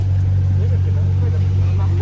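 A widebody Dodge Challenger with a straight-pipe exhaust and no downpipe idles with a deep, steady rumble, loud and near, under excited voices.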